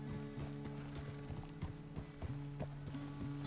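Horse hooves clip-clop at a steady walking rhythm in the Red Dead Redemption video game, clear and close with a faint mechanical rattle underneath.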